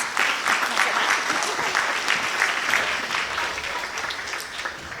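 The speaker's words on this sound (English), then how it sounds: "Give yourselves a round of applause." Sustained applause from a spring concert audience at a school event, a dense, steady wash of many hands clapping throughout, fairly loud and close, with no clear voices on top.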